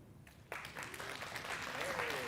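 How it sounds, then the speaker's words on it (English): Audience applause breaks out at a radio marketing masterclass, a dense steady clatter of clapping that starts abruptly and continues at a moderate level, with a voice speaking over it. "A round of applause for Gugu once again."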